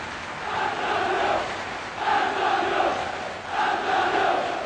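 A large football stadium crowd at a 1988–89 Serie A match between Roma and Fiorentina sends up a long, sustained roar that swells and eases in slow waves, loud and continuous with no single voice standing out.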